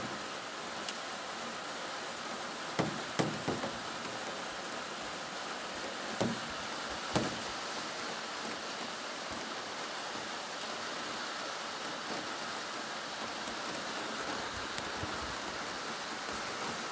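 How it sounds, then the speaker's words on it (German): Heavy, continuous downpour during prolonged intense rain in Saxony, heard as a steady, dense wash of rainfall with a few faint clicks and taps on top and no voices. "Unglaublich, was hier für Regenmassen runterkommen."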